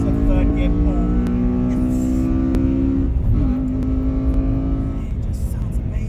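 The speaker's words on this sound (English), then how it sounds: "The VTEC noise is so good." A Honda Accord Euro R CL7's VTEC engine revs hard through a third gear pull, climbing in pitch, easing off at a shift, then rising again, loud and close, with a voice talking over it.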